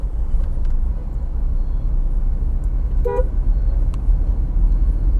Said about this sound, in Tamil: ஸோ ஹார்ன் வந்து யூஸ் பண்ணுங்கள்